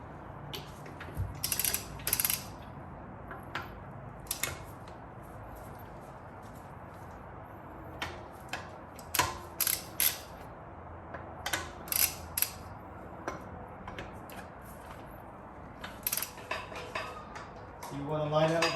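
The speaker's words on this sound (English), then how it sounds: "I'm gonna break all these lug nuts loose, but not fully unscrew it" Lug nuts on a 2021 Tesla Model X wheel being broken loose with a wrench, giving intermittent metallic clanks and ratcheting clicks in short bursts, fairly close, with no one talking.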